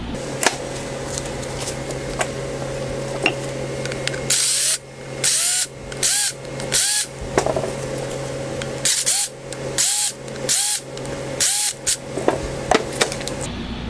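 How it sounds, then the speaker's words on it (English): A power drill with a 5/16 bit whines in repeated bursts as holes are pre-drilled while installing a lift kit on a Club Car DS golf cart, close and loud, with a constant mechanical hum and brief pauses. "take a 5/16 drill bit, pre-drill the holes so that it will slide directly through"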